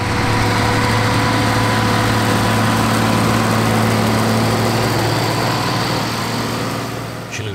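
A 90-horsepower Schlüter tractor from a dairy farm, the silver 50 km/h high-speed variant, runs at a steady idle at a field day, with a loud, constant low engine drone and heavy vibration throughout and a slight fade at the end.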